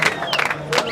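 A political rally crowd cheers and applauds in short loud surges, mixed with shouting voices, lasting under a second.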